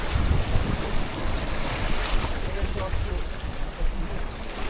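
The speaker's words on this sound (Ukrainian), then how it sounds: "Море." Steady rushing roar of sea waves and wind, loud and continuous, with a broad wash of noise and no distinct breaks.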